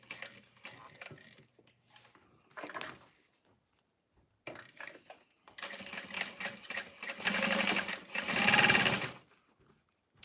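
A sewing machine stitches in short bursts of varying length, quiet and intermittent at first, then longer and louder whirring runs with mechanical clatter toward the end.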